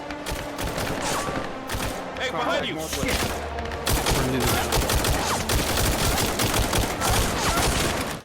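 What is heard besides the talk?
distant gunshots in a video game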